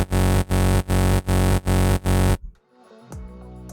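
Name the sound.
saw kick drum synthesized in Vital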